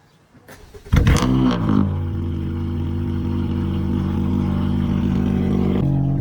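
A car engine fitted with a new downpipe starts with a sharp burst and revs loudly, then settles into a deep, steady idle with a rumbling exhaust.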